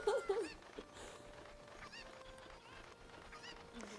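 A chicken in Ocarina of Time gives a few quick honking clucks at the start, loud and close, then the scene goes quiet with faint background tones.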